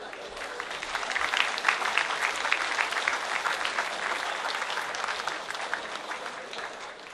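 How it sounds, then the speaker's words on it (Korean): A hall of Korean union delegates gives strong applause as the union chairman and leadership enter: a broad, steady wash of many hands clapping together that swells slightly early, then eases toward the end, with no speech on top. "힘찬 박수 부탁드리겠습니다."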